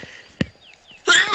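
A single sharp human sneeze burst at close range, followed by a short rush of breathy noise; no speech in between.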